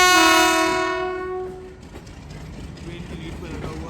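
A long, loud horn blast from the Kohat Express pulling out of the station, then a fading rumble and rattle of the moving carriages.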